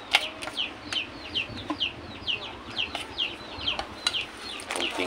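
Chickens cluck in quick, repeated short calls, fairly close and steady over a faint background rustle, while conditioning feed is mixed.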